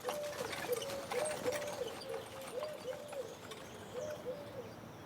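Small birds sing in a quiet vineyard at Limoux, repeated cooing or chirping calls at a moderate distance over a soft, steady outdoor background.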